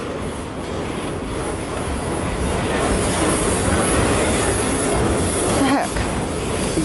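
A CN freight train rolls past in New Haven, Michigan, a steady broadband rumble of wheels and cars close to the camcorder, with brief wheel squeal and voices now and then.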